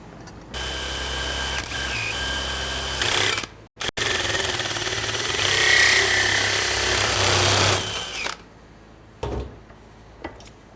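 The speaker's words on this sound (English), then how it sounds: "gonna drill the center hole for the push rod to go through" A power drill bores the center hole for a push rod through a metal block-off plate during a Hemi swap into a 1970 Dodge Dart, whirring loudly in two sustained runs with a short stop between, then falling quiet.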